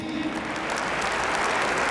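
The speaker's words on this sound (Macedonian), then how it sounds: "Да ги поздравиме со еден аплауз и нив." Audience at a Zlatna Bubamara awards show applauding: steady, dense clapping close by with no letup, filling the whole stretch with no voices over it.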